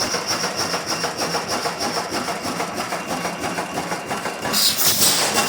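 An old engine called the Julian running on its own power after many years idle, a steady rapid chugging beat with mechanical clatter, loud and close, swelling slightly near the end.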